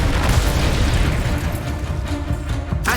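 The Incendio fire spell is cast in Hogwarts Legacy, producing a loud, sustained roaring blast of flame with booming bursts throughout.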